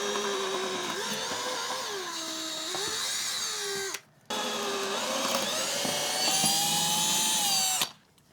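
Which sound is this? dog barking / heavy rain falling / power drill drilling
power drill drilling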